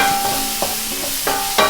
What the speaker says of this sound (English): Mushrooms go in.